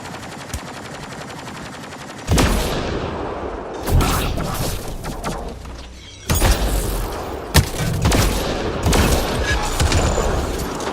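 Gunfire in the video game Mass Effect: Andromeda, loud bursts of automatic fire with heavy booming thuds, coming in several intense volleys separated by brief lulls.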